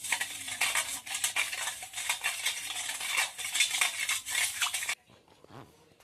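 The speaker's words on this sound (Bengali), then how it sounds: "এবারে এটাকে আমি নাড়তে থাকবো যতক্ষণ না পর্যন্ত জলের সঙ্গে এই নুন আর চিনিটা একদম" A spoon stirs salt and sugar into water in a bowl, clinking and swishing steadily for about five seconds before stopping abruptly, leaving faint small handling sounds.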